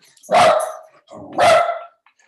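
Two loud, close dog barks ring out about a second apart, excited and sharp, each trailing off into near silence with no voices present.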